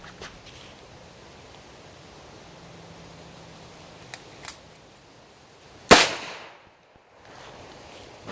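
A single sharp gunshot cracks out at a shooting drill aimed at targets, loud and close, with a couple of faint earlier pops and a quiet pause afterward, no talking.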